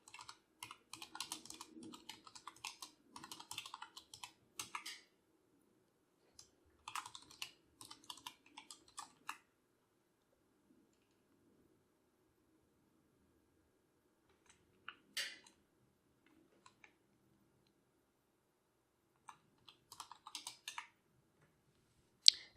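Someone types a systemctl command on a computer keyboard: crisp key clicks come in quick bursts, separated by pauses and then a few scattered keystrokes, close and fairly quiet with no talking.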